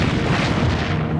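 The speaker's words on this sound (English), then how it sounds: "Hood blew in two, a huge explosion" The battlecruiser HMS Hood explodes after being struck by shells from the Bismarck, a loud, dense, rumbling blast that fills the whole short moment with deep booming noise.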